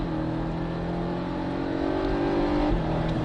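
A Porsche 718 Cayman S on a race circuit held at full throttle, its engine a loud, sustained droning roar with steady high tones and a brief dip and pickup near the end, heard from close on board.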